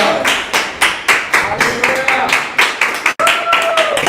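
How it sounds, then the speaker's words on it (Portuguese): Rhythmic clapping from a church congregation, loud and close, beating in a steady pulse with a brief break, while a preacher's voice carries on underneath. "coloque-se de pé no seu lugar e aplauda o Senhor nessa noite"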